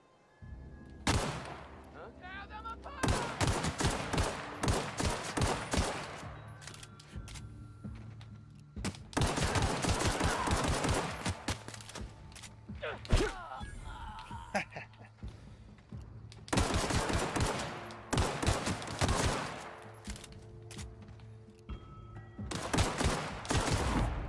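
Shootout in The Outer Worlds, with bursts of rapid gunfire in several dense clusters separated by short pauses, loud and close, and a voice talking at times between the volleys.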